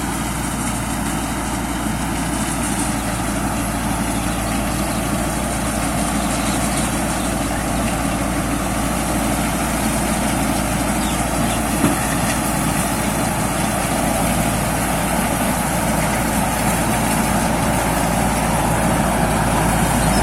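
A P. Charoen Phatthana new 2018 rice combine harvester engine runs at a steady, loud idle nearby, its deep continuous rumble holding unchanged for the whole stretch with no talking.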